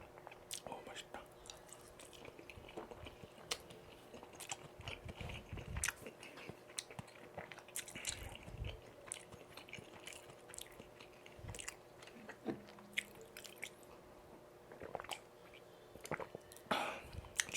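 Close-miked mukbang eating of chewy Urihalmae tteokbokki rice cakes and homemade assorted Korean jeon pancakes: steady wet chewing with frequent sharp bites and smacking clicks throughout, faint and intimate, with no talking.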